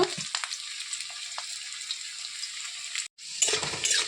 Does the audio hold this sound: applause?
no